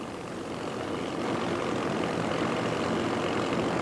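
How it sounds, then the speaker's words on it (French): The six propeller engines of a giant seaplane drone steadily and loudly, a dense continuous roar that builds slightly over a few seconds, with no voices. "Les 6 moteurs tirent maintenant doucement l'immense hydravion"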